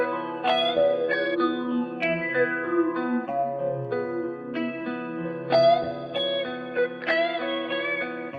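A guitar played through a gritty distortion preset in an iOS reverb app rings out in sustained, overdriven chords and single notes with a reverberant tail, no voices.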